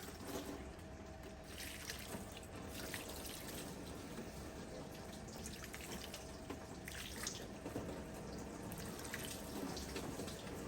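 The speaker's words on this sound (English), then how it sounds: "let's get a little bit of water here" Tap water runs steadily in a continuous broadband rush with slight splashing variations, close and fairly quiet, with no voices, during cleaning work on a 2007 Toyota Corolla.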